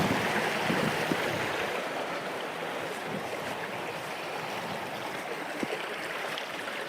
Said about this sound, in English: It goes over quite a sort of rocky bed to the stream itself